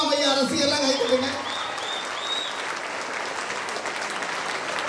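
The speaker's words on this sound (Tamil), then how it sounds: "ஐயா அப்துல் கலாம் ஐயா ரசிகர்லாம் கைதட்டுங்க." A school annual day audience bursts into loud applause, dense clapping from a large crowd that starts strong, then settles into a steady roar for several seconds, with music in the background at the start.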